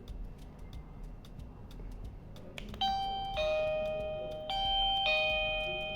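A NGTeco smart video doorbell chime rings twice, loud, clear electronic ding-dong tones sustaining and decaying, after a stretch of quiet room noise with faint clicks.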